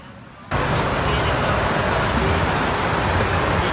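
The Bitbit River in Norzagaray, Bulacan rushes with a strong current, a loud, steady roar that cuts in abruptly after a half-second of quieter ambience and holds unchanged to the end.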